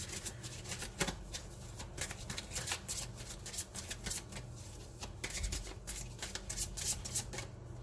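Tarot cards being shuffled by hand for a reading, a continuous close riffling and sliding with irregular soft flicks and snaps, no speech.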